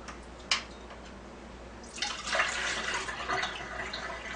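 Water trickling and splashing from the hoses of a Kangen alkaline water machine draining into a sink, a single drip followed by a steady, close run of flow.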